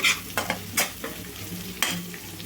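Ginger garlic paste frying in a pan for paneer butter masala, with soft sizzling under a few sharp stirring scrapes of a spoon against the pan.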